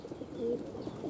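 Racing pigeons coo softly and close by in their loft after a training flight, low rolling murmurs repeating over steady background noise.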